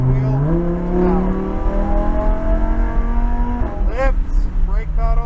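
A Lamborghini Huracan engine pulls hard on a track, its pitch climbing through the revs. A quick shift breaks the climb before the engine builds again, loud from inside the car while an instructor talks over it.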